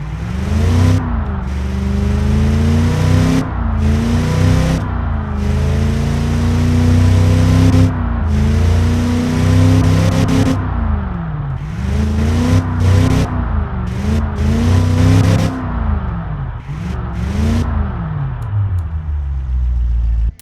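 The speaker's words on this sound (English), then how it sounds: "As you can hear, it's very smooth, very elegant" A Cadillac 500ci V8 engine in the Automation video game revs repeatedly, rising and falling in loud smooth sweeps with brief pauses between pulls, no talking.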